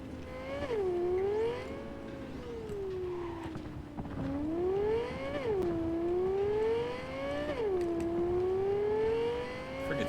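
A small, high-pitched engine whines and revs repeatedly, pitch swooping up and down in surges, loud and close.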